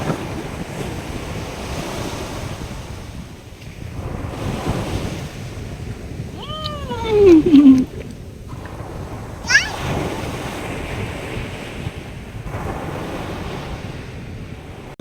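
Sea surf rolling onto the beach at Bakkhali, a continuous wash of breaking waves with heavy wind buffeting the microphone and a few brief louder tones cutting through midway.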